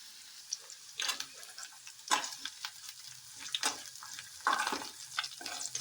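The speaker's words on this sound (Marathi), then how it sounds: "कांदा छान असा भाजतोय." Onion fries in a pan with curry leaves and green chilli, giving a quiet sizzle punctuated by sharp spatters and stirring scrapes at irregular intervals, close by and with no talking.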